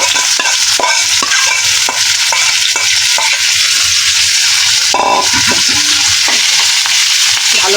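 Pointed gourd peels frying in a little oil in a wok, with a loud, continuous crackling sizzle and regular scraping stirs of a spatula against the pan, close and without talk.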